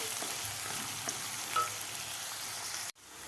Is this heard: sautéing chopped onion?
yes